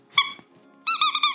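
A rubber duck toy squeaks, one brief squeak followed by a longer wavering double squeak, close and loud with no speech.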